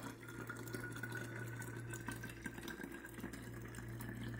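Water runs steadily into a plasma energy water unit, a soft continuous trickling fill heard close up and fairly quiet, with a faint low hum underneath and no talking.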